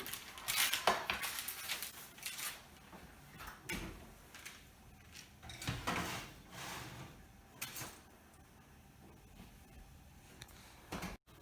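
A home oven is opened and loaves of prosphora (holy bread) are placed inside one at a time. Faint, scattered metallic clanks and soft thumps of pans and the oven door sound in a quiet room.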